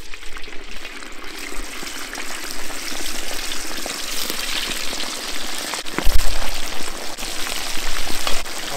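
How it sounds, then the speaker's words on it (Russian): Nutria meat fries in a kazan until crispy, a dense, continuous close-up sizzle and crackle like rain on a surface, with a few louder spits and a brief low thump partway through. "Следующее обжариваем саму нутрию непосредственно."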